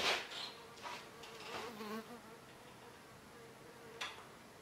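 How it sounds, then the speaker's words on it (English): A wasp buzzes faintly in a quiet room, its hum rising and fading as it moves around near and far. "why is there a wasp in the room?"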